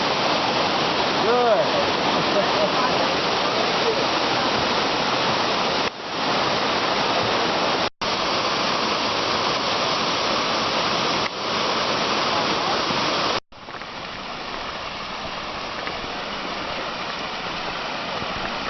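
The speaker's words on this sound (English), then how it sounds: "Nice creek at the bottom." Creek flowing at the bottom of a cove on the Bartram Trail, a steady broadband rush of water that stays constant and close, with brief breaks and a short spoken word.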